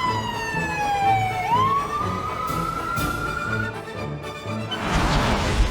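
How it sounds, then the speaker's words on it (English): A fire engine siren wailing nearby, its tone sliding down and then sweeping back up over a low rumbling engine, ending in a burst of broadband noise. "Fire engine."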